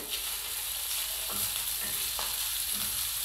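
Small pieces of chicken sizzle in a hot pan with a constant bright hiss, while a utensil stirs them in a few soft, scraping strokes; close up and without speech.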